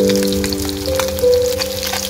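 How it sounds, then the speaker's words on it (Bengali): Salmon fish fried until red and crisp spits and crackles in a pan, a close, busy patter of pops over a steady humming tone, with no voices. "মাছ তো মোটামুটি ভাজা হয়ে গেছে,"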